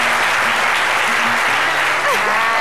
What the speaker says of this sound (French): Applaudissements pour Alissa